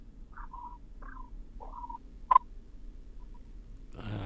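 A person vocally imitates low-pitched frog croaks: three short, nasal croaks at an even rhythm, then a sharp click. A faint rustle or breath follows, all close and fairly quiet.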